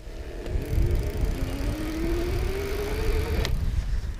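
Magnum Metro+ electric bike motor pulling away from a standstill on grass, a strained whine climbing steadily in pitch for about three seconds over rustling and rolling noise, close up.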